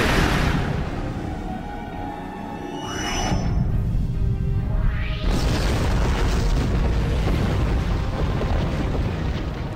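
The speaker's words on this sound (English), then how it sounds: "this time I'm going to shoot that freaking plasma torpedo" A plasma torpedo fires and explodes in the space combat game Star Trek Online, opening with a heavy booming blast, then a rising whoosh and a second loud rumbling detonation that sustains to the end.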